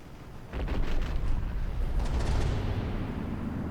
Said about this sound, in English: Already had some volleys coming in.